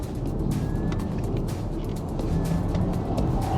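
A Porsche Taycan electric sports car drives on a race track, giving a continuous rushing road and wind noise with a faint rising electric whine, steady and close throughout.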